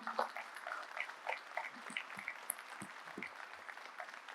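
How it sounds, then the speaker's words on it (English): An audience at an aerospace and defence event applauds the armed forces with steady, moderately faint clapping that rolls on continuously from many hands. "Please get up and give a great applause to all these people under the armed forces in the country."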